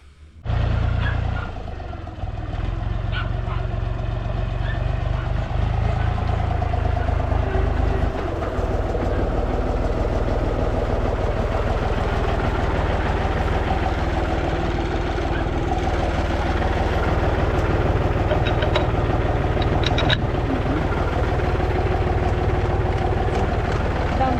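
A vehicle engine on a farm runs steadily before pulling away, a loud continuous low rumble and drone that starts abruptly and holds unbroken, with faint rattling over it.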